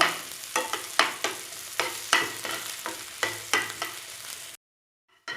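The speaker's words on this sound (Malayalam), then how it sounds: "ഈ പഴവും നെയ്യും കൂടെ ചേർന്ന് കിട്ടിയാൽ മാത്രം മതി. അധികം നേരം ഫ്രൈ ചെയ്യണ്ട." Banana pieces fry in ghee in a pan, with a soft hiss under regular, close stirring scrapes about every half second, then an abrupt cut to near silence and one last faint scrape.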